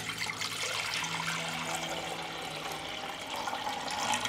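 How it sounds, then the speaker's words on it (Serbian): Cold water, about a litre, pours into a 6-litre pressure cooker holding jars, giving a steady, close, continuous splashing gush throughout with no talk. "u njega ću sipati litar hladne vode"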